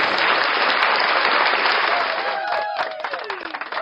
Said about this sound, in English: Wow, big applause.